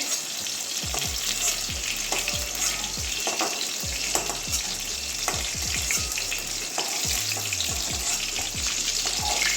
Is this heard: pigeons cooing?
no